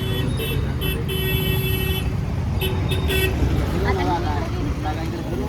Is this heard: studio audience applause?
no